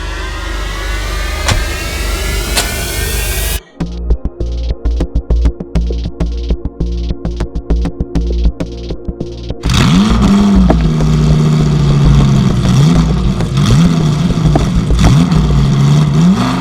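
A car engine revs hard and strains without pulling away, first as a steady roar, then in choppy bursts, then a loud sustained whine with wavering pitch.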